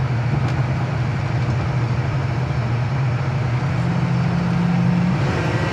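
A 1975 Ford Torino Elite with a 351 V8 cruises near 60 mph, its steady engine drone and road noise filling the cabin, with a gear shift easing the pitch toward the end.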